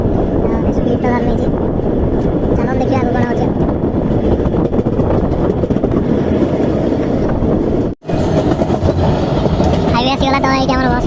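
A passenger train runs on rails in Odisha, its loud continuous rumble and rattle heard from inside with wind buffeting the microphone, while voices talk over it.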